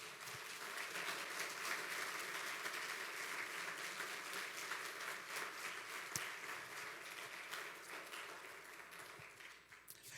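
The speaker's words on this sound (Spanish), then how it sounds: "¿Cuántos le dan un aplauso al Señor?" A church congregation applauding, with sustained dense clapping from many hands lasting several seconds, fairly distant and faint in a reverberant hall.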